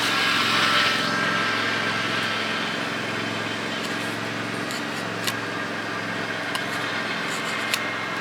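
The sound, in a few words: lawn mower running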